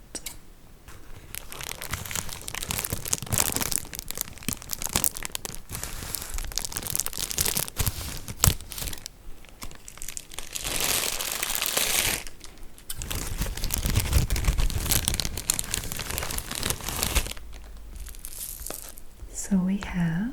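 Crinkly snack packaging from a British corner shop is cut open and handled up close, with continuous crackling, tearing and crumpling throughout, under soft whispered speech.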